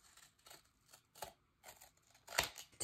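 Scissors snip through paper while cutting a chipboard-thickness piece for a Christmas letters dos-a-dos album base, in several irregular close bursts of crisp cutting separated by short pauses.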